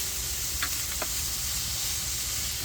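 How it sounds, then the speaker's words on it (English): Diced onion and meat frying in a pan outdoors, giving a steady loud sizzle and hiss with a few faint scrapes as the food is stirred. "I'm just going to let that meat brown off"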